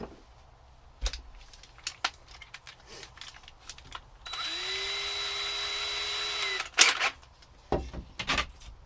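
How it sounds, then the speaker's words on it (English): A power drill whirs steadily for about two seconds while pre-drilling wall framing inside a Ford E350 van conversion, preceded and followed by scattered knocks and handling clatter. "Now I want to get my first one pre-drilled"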